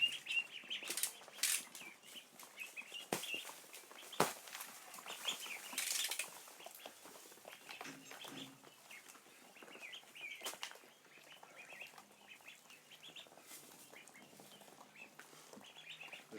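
Ducklings chirp and peep in soft, scattered bursts, with occasional rustling and flapping in a quiet barn.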